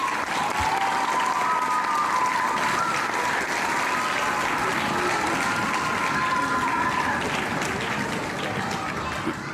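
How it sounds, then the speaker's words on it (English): Audience applause greeting the speaker at a commencement ceremony for the class of 2020, a loud, continuous roar of many hands clapping held steady for nearly ten seconds, with faint crowd murmur beneath. "Round of applause, please."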